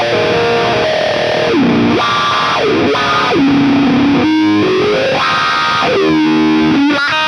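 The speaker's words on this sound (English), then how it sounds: "let's try the wah just for fun" An electric guitar through a wah pedal modelled in the Ampbox Spark, with distortion, plays phrases whose tone sweeps up and down in a vowel-like quack, loud and continuous with no talking.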